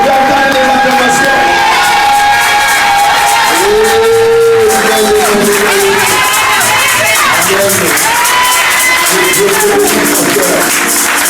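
A church congregation cheers and acclaims in a loud, sustained swell of crowd voices with whoops and some clapping, steady throughout with a sung or held tone running underneath.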